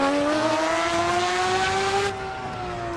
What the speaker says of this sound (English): that sounds exactly what it sounds like